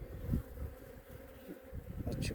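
Honeybees buzz around an open beehive during a brood inspection, a steady close-up drone of many insects with no talking.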